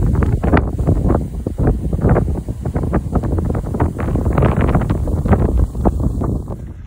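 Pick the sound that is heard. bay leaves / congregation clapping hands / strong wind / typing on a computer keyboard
strong wind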